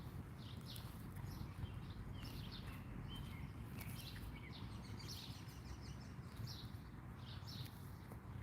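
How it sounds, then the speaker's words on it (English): Birds sing in a garden with faint, scattered chirps and tweets throughout, sitting above a steady, loud broadband hiss that persists for the whole stretch. "You guys hear those birds?"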